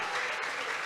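A short burst of audience applause at a Miss BPX pageant talk show, steady clapping from a crowd filling the moment without a break.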